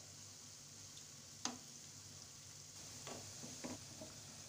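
Koftas for malai kofta fry in oil, a faint, steady sizzle with a few soft clinks of a spoon turning them.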